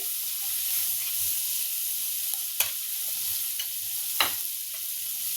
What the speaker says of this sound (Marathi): बारीक चिरलेला कांदा त्यांना परतून घ्यायचे